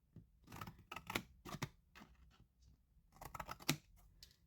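Scissors cut through scored card for a Christmas craft in a few quick clusters of crisp snips and rustles, close and quiet, separated by short pauses.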